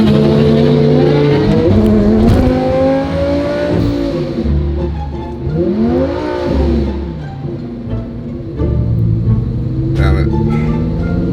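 A twin-turbo Lamborghini Huracan on a drag strip at a Fontana racing event, prepping for a qualifying pass: loud, continuous engine note with rising and falling revs and pitch sweeps throughout, with voices heard over the engine.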